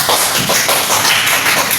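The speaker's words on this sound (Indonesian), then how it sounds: "beri tepuk tangan kepada Emma" A classroom full of students claps loudly and continuously for a classmate, a close, dense patter of many hands with no pauses.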